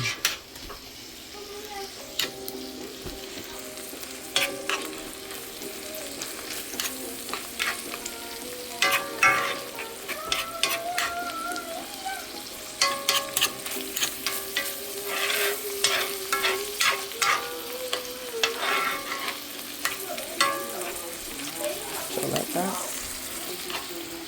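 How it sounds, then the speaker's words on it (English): Beef cooks well done in a pan for a homemade chopped cheese, sizzling steadily while a spatula scrapes and stirs in irregular clicks and taps, close and moderately loud. "So my beef is cooking up."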